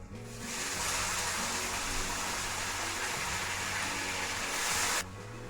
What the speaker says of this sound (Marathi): आता हा पावटा आपण त्याच्यामध्ये टाकू